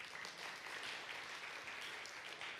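Audience applause at an evangelist's sermon in Indonesia, a faint, distant wash of steady clapping with no talking over it.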